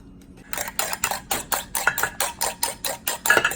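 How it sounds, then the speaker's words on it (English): Eggs are whisked by hand in a bowl until foamy, for a historical pudding recipe. Close, brisk and evenly spaced strokes repeat about a dozen times in a steady rhythm, with no voices. "the next step will be whisking your eggs until you have a foam"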